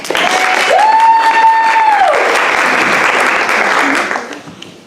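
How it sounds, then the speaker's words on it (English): Round of applause from staff at a workplace meeting, dense steady clapping for about four seconds with a brief whoop or voice rising over it, then fading out at the end. "one more round of applause for curriculum."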